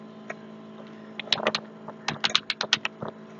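Typing on a computer keyboard: scattered key clicks, then a quicker run of sharp taps, close and fairly quiet over a low steady hum.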